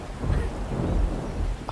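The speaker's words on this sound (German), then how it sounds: "Gewitter!" Thunder in the survival video game 7 Days to Die, a deep rolling rumble with rain underneath, loud and sustained through the short stretch.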